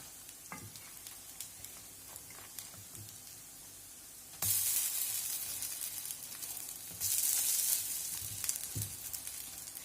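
Grated potato pancakes fry in a little oil, a steady soft sizzle that swells twice into louder hissing bursts, with occasional pan and utensil clinks.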